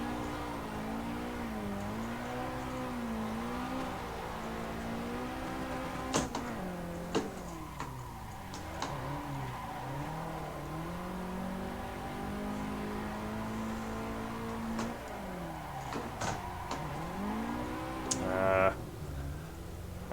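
A drift car engine in Assetto Corsa, driven on a night touge-style track, revs and drops repeatedly through gear changes, sweeping up and down in pitch with loud, continuous, close engine tone.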